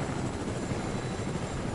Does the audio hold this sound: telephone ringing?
no